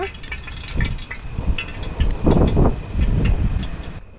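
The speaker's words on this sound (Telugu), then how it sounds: "మేము కొండ పైన ఉన్నాం కదా గాలి ఫోర్సు చాలా ఎక్కువ ఉంది" Strong gusty wind on a hilltop on Chandragiri Hills buffets the microphone in loud, irregular roaring bursts, with faint background sounds.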